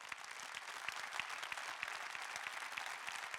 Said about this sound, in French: Je voudrais qu'on les applaudisse encore.